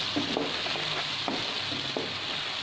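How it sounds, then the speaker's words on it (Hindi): Onions frying in a pan with cumin while a fish masala is cooked, a steady close sizzle with occasional soft stirring clicks and scrapes, with no talking. "इसमें प्याज शामिल करेंगे। और प्याज को अच्छे से पका लेंगे ताकि प्याज का कच्चापन ख़त्म हो जाए।"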